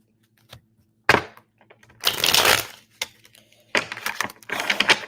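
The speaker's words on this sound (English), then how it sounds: "every time the cards shuffle like that" Tarot cards being shuffled in several quick riffling bursts separated by short pauses, close and crisp, with no talking.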